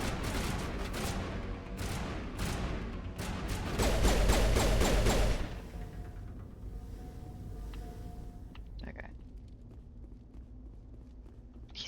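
Gunshots in Mass Effect Legendary Edition sound as a fast, rhythmic run of shots that peaks loudly, then gives way to quieter movement and scattered noises.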